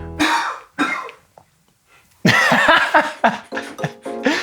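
Several harsh coughs and throat-clearing bursts, close up, with short pauses between, followed by a longer run of coughing.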